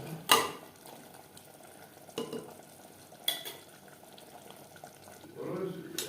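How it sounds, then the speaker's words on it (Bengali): Mutton in its marinade spices being fried and stirred on a high-to-medium flame for a homemade mutton biryani: a soft, steady sizzle with a few sharp utensil clanks and scrapes, no talking. "ম্যারিনেশনের বাকি মশলাটা হাই টু মিডিয়াম ফ্লেমে সাত আট মিনিট মাংস বেশ ভালো করে কষিয়ে নেব"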